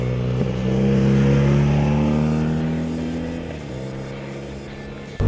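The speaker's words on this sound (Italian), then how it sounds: "Moto accesa e da qua inizia il bello perché la Urban GS fa un rumore spettacolare." A BMW Urban G/S boxer motorcycle engine with single exhaust revs up close with a deep, throbby roar, swells and then eases off, and ends with a sharp blip of the throttle.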